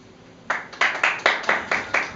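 An audience claps in a quick, even rhythm, about seven sharp, close, loud bursts in a row after a brief quiet start, choosing a path in an interactive story.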